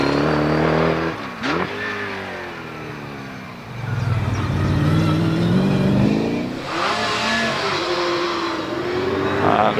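A 3.5-litre Brabham racing car revs hard and accelerates away up the Prescott hillclimb course, its engine note rising through repeated gear changes, loud and close before pulling into the distance.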